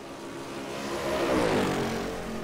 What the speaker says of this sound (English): Let's see if we have David Saber here in the number 8, which is a Pontiac Firebird 1970 edition.